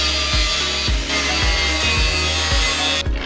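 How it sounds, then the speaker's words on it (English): A loud angle grinder grinds out bolts on a van during a camper conversion, with a continuous harsh whine and a rhythmic pulsing roughly twice a second as the disc bites into metal. "So got the angle grinder, we're just going to grind these bolts out"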